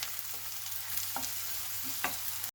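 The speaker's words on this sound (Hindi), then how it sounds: "इसे अच्छे से हम मिक्स करेंगे, इसे भी हल्का सा हम भून लेंगे।" Green chillies and spices stir-fry in hot oil in a pan for a spicy chicken dish, giving a steady close sizzle with a few soft stirring scrapes throughout.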